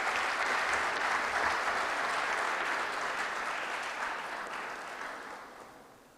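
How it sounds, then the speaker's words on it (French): An audience applauds a minister at a formal French-speaking gathering, a dense, steady wash of clapping from many hands that holds for several seconds and then gradually fades away, with no talking over it. "C'est sous vos applaudissements"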